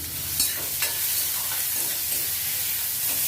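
Onions frying in a pan for a bottle gourd curry, a dense continuous close sizzle with a few faint pops and crackles throughout, no voices.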